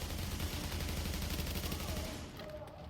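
Rapid turret gunfire in the video game The Division, a dense, loud burst of repeated shots that fades toward the end, with some game noise beneath.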